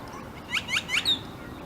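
Several quick bird chirps, three short high tweets in a row and then a thinner call, heard faintly over a soft outdoor background by a lake in a San Diego regional park.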